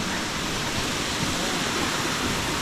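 The Nota waterfall in Karen State gives off a continuous, loud, even rush of falling water that fills the short stretch with no voices.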